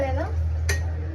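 A spoon stirs tempering into Karnataka pappu saaru lentil soup in a metal pot, giving a single sharp clink against the vessel amid soft kitchen clatter, close by and brief.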